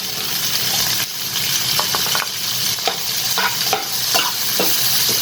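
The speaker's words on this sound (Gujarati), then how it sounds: "હવે આપણે ગાજર નાખીશું, એને પણ સાતળી લઈશું" Chopped carrots and green capsicum sauté noisily in a hot pan for white sauce pasta, a constant close sizzle broken by repeated scraping stirs of a spoon.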